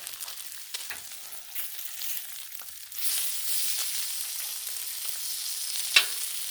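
Thick-cut bacon fries on a Blackstone flat-top griddle, a steady crackling sizzle that swells louder midway, with a sharp scrape or tap near the end.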